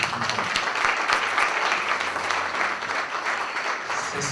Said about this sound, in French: Est-ce qu'on peut applaudir tout le monde?